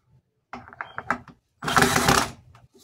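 Screw being tightened on a plastic bucket while building a homemade bin, heard as a short run of close, clicky ratcheting taps followed by a louder, steady whirring grind lasting about a second.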